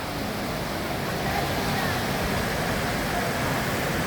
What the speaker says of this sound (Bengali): দেখছেন প্রবল স্রোতের মতো জল বয়ে চলেছে রাস্তার দুধারে